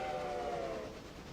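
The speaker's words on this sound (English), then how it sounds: "Is this a cast whistle?" A sustained train whistle in a video game blows in a steady tone, then fades out over about a second, leaving a faint rumble beneath it.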